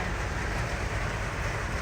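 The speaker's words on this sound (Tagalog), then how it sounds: "Umuulan na siya. Ang lakas ang ulan." Heavy autumn rain in Japan, falling in gusts, produces a dense, constant roaring hiss with no pauses or other sounds standing out.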